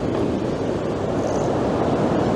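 Rough sea surf churns at Blackpool, a steady roar of breaking waves mixed with gusting wind buffeting the microphone, loud and continuous with no let-up.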